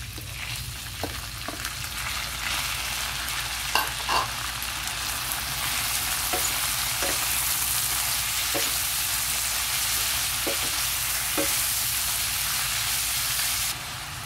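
Chicken pieces fry in a hot pan for chicken pastil with pepper and bay leaf, a constant loud sizzle with repeated short scraping knocks from stirring, and no voices.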